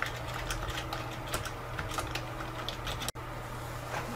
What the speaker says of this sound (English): Typing should be pretty good.